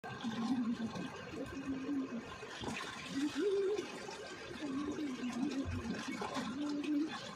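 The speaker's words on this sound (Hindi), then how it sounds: "ये पानी भर रही हूँ मैं, ये सब पानी भर चुका है" Running water pours steadily into containers during a morning fill-up at home, a continuous gushing wash with a voice talking over it throughout.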